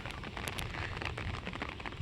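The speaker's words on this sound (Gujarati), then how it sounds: "અત્યારે જો ફૂલ વરસાદ ચાલુ થઈ ગયો છે છત્રીમાં જો પાણી પડે છે" Heavy rain drums hard and close on an umbrella held out in the countryside near grazing buffalo, a dense, continuous spatter of drops with sharper individual hits breaking through the steady roar.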